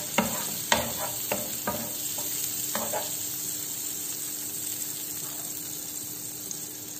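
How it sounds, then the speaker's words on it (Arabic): Walnuts frying in melted margarine in a pan, with a constant soft sizzle and a few sharp spatula scrapes and clinks early on that fade into steady frying. "هكا عندي مقلاة راح ندير فيها نص مغرف مارغرين، هكا نخليها حتى تذوب وندير الجوز المحمر شوية"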